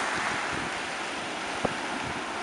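Waves wash steadily over the beach of Dharavandhoo island in the Maldives, a continuous broadband surf and wind rush with one brief knock partway through and no voices.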